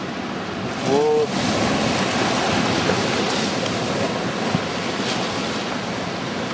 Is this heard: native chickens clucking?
no